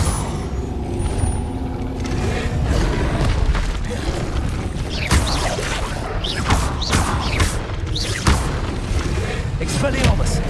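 Incendio fire spells cast in Hogwarts Legacy burst repeatedly as whooshing, booming flares amid other combat effects, loud and close, with a voice shouting spell names over them.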